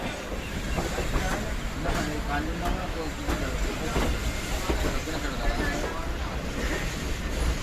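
Upasana Express train rolling into Asansol Junction, a steady moderate rumble of wheels and carriages with faint rhythmic clatter, and a voice talking over it.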